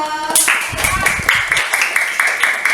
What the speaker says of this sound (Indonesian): Silakan kasih tepuk tangan ke Yoga.